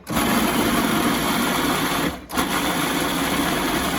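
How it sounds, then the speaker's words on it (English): A blender purees roasted sweet pepper sauce, a loud continuous motor whir that briefly dips midway and then resumes, with no talking. "So I'm gonna puree this."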